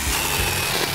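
A power saw cuts through a piece of scrap wood, a steady, loud, continuous buzzing rasp with no pauses across the short stretch.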